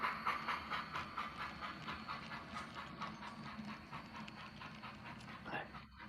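A small train rumbles and clatters along its track with a rhythmic clicking, steady and fairly close, with faint background noise.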